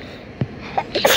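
A sneeze bursts out near the start, then a few quieter voiced sounds follow in a domestic setting, with soft background noise throughout.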